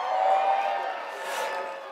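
A live audience cheers for the New England Patriots in a steady, roaring crowd wash that swells and eases slightly over two seconds.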